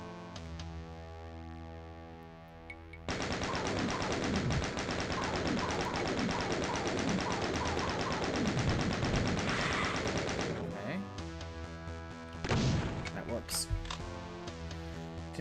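The chaingun in classic Doom fires in a long, loud, continuous burst of rapid shots lasting about eight seconds. Quieter game ambience and a few sharp effects follow after it stops.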